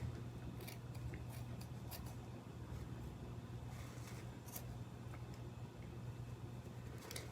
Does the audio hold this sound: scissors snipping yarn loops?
yes